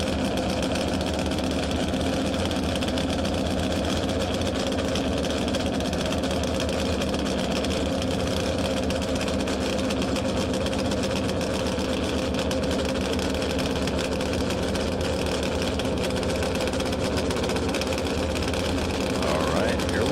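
The small-block engine of a dry lake race car runs steadily and loudly at El Mirage, a dense, continuous drone with no pauses over the whole stretch.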